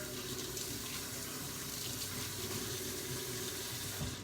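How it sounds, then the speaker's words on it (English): Tap water runs steadily and fairly loudly, splashing as a gloved hand is rinsed beneath it; the rushing flow stays constant and close the whole time, with no one speaking. "I'm going to rinse off my hand, rinse off my glove."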